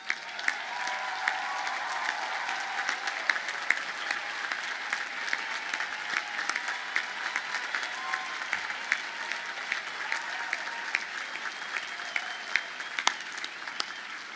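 Sustained applause from a large crowd at a college commencement, steady and dense clapping that continues without a break from start to finish.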